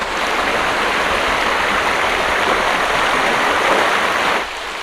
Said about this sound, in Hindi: आपको पानी कलकलाहट की आवाज़ आ रही होगी